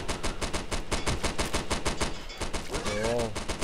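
Rapid, sustained machine gun fire in the co-op video game Primal Fears, a dense fast rhythm of loud shots throughout, with a brief voice near the end.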